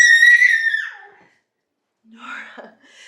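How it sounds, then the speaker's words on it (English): A child screams in a long high-pitched shriek while playing, then after a short silence lets out a second, shorter squeal, close and loud. "running around playing and screaming"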